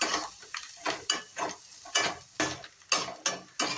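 Masala with turmeric and coriander is roasted in a pan and stirred by hand, producing about eight rhythmic scraping strokes with a faint sizzle underneath, close and fairly loud.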